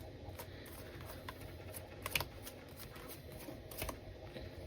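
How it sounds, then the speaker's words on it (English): Playing cards are dealt out one by one, soft flicks and slaps in an irregular rhythm, quiet and close with no voices over them. "I personally, have no problem dealing the cards out like this"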